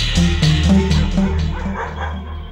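Several dogs bark loudly and close by in rapid overlapping bursts, with a few yips mixed in. The barking competes with a ringing telephone.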